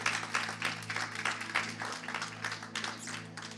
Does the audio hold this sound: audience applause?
yes